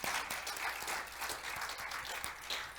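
A church congregation applauds during a sermon, a quiet, steady patter of many hands with distinct individual claps, heard faintly and evenly throughout with no voices over it.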